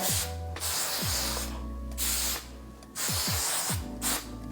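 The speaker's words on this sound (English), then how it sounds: "I just spray in my hair to set it even more" Several long hissing bursts from an aerosol hairspray can, separated by short pauses, with a low motor hum running underneath.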